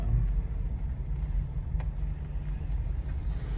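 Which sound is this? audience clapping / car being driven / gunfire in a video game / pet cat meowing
car being driven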